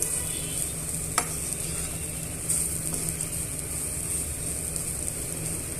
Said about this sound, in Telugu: స్టవ్ మీడియంలో పెట్టుకొని ఇలా ఫ్రై చేసుకోవాలండి